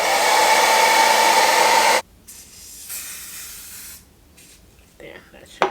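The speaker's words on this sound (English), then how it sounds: "We're going to blow dry again." A handheld hair dryer blows steadily and loudly on hair for about two seconds, then cuts off, leaving faint rustling and quieter gusts behind.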